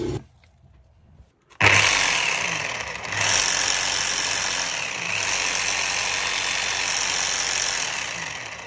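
A rotary hammer drill's loud, steady mechanical roar starts after a brief quiet moment and runs continuously, with a harsh rattling, hammering edge throughout.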